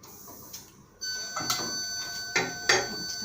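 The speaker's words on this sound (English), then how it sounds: "Is that the alarm noise that it would make?" A resuscitaire's gas supply alarm tone starts and holds steady, with a few clicks and knocks of handling equipment and gas cylinders around it.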